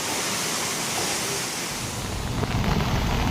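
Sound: strong wind

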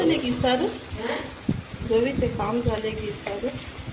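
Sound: onions added to hot pan, sizzling, while making upma

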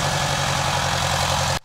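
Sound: International 240 tractor engine idling

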